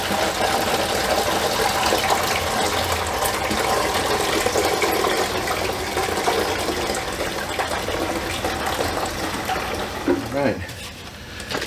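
Liquid lawn fertilizer mix pours steadily through a strainer into a bucket outdoors, a continuous loud gushing splash that runs unbroken for several seconds before tapering off near the end.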